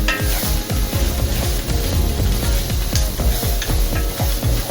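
Mustard paste stirred and fried in a pan for a mango and naga chili pickle: loud steady sizzling with rhythmic scraping strokes of a spoon against the pan, continuous and close.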